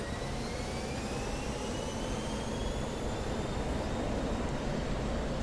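Jet aircraft engine roars at full power with afterburner during a go-around on a display flight, a loud, steady broadband rush with rising whining tones, heard alone without talk.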